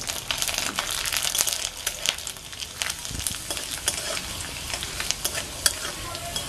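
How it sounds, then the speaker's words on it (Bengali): Peeled garlic cloves fry in leftover oil while a spoon stirs them, a close, steady sizzle broken by scraping strokes, with no talking. "দেখো আমি এই যে রসুনের কোয়াগুলো ছাড়িয়ে নিয়েছি, এগুলো আমি বাকি তেলটার মধ্যে এই রসুন নিয়ে"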